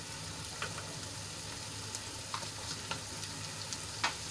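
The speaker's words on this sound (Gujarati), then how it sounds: "અને એને આપણે સરસ રીતે ડુંગળીમાં મિક્સ કરીને સોફ્ટ થાય ત્યાં સુધી એને સાંતળી લઈશું" Finely chopped tomato and browned onion fry together in a pan with a soft, steady sizzle, broken by faint, scattered clicks of a spoon stirring them.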